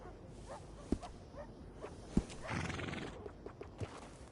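A horse in the video game Red Dead Redemption 2 whinnies in a long, shaky neigh amid clip-clopping hooves and a few sharp knocks, fairly close and moderately loud.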